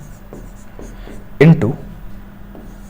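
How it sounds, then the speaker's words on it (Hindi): Numbers are written by hand during a Class 8 maths lesson, with quiet, scattered pen strokes across the clip and one brief spoken word partway through. "चलो लिखता हूं"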